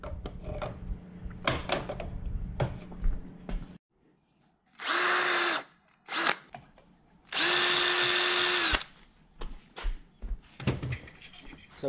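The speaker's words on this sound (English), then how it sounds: "Now I'm going to drill and tap a hole here for the locator, the securing screw." Bursts of a power drill boring a hole into a throttle body from a Toyota 1UZ-FE non-VVTi V8 engine: two sustained high whines separated by pauses, with shorter clicks and workshop handling noises around them, close and fairly loud.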